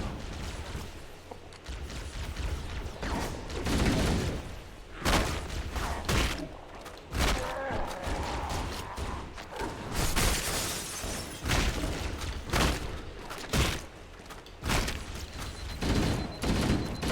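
Repeated gunfire and booming blasts from shotguns and other weapons in Halo Anniversary combat, loud and dense with irregular bursts, thumps and crashes running nonstop, no talking.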